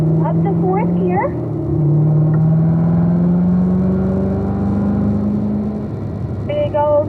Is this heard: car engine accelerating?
yes